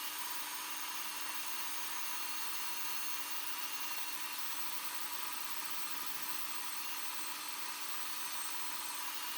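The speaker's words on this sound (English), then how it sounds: "Just gonna clean the whole thing up with a bit of sanding." Steady, even abrasive rubbing of sandpaper against a spinning turned wooden piece, a continuous fairly faint hiss with no breaks, close by and alone.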